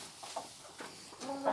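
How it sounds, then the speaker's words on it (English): Farm chickens clucking softly in the background, a few faint scattered calls over low ambient noise, with no talking. "there's chickens in the background."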